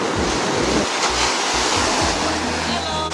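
Ocean waves at a Zanzibar beach at high tide, a continuous loud roar of surf with wind buffeting the microphone throughout.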